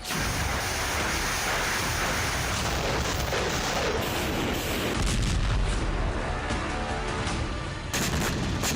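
Artillery shelling in the Ukraine war booms and rumbles without a break, a loud dense roar of blasts and crackling fire with no voices.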